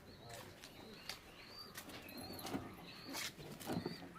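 Pigeons released from a loft take off with bursts of flapping wings and scattered chirps, close by, with faint voices in the background.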